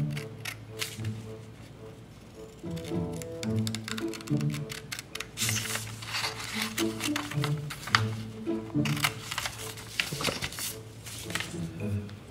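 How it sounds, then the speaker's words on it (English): Scissors snipping paper for an Apogee Apprentice rocket kit part, a run of crisp cutting clicks in uneven bursts up close, with a person talking intermittently between cuts. "We're gonna cut this shape out."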